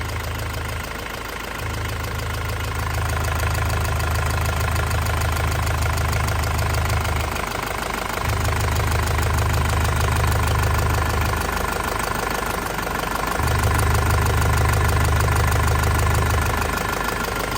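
A warm 2005 Isuzu Panther Grand Touring diesel engine idling with its turbo whine, a steady close mechanical clatter that carries a low pulsing throb and continues without a break.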